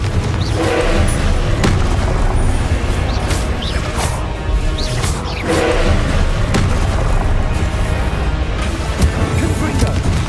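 Blasting spells fired in Hogwarts Legacy combat burst as loud, repeated booming explosions with crashing impacts, coming in quick succession over a dense, continuous battle din.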